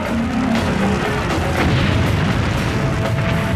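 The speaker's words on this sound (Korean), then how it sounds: "당연히 치명적인 연쇄 폭발이 이어졌다." Chain explosions at a burning chemical plant, where rupturing pipes feed flammable gas into the fire, give a dense, continuous roar of booms and rumbling bursts, loud and sustained with no talk.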